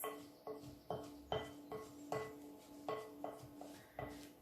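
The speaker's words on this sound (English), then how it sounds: "Give it one more stir. Toss it back and forth with your spoon." A spoon stirs sticky sugar-free apricot flapjack mixture in a bowl, scraping and clinking against the sides in a steady push-pull rhythm of about ten strokes, close and clear with no talk.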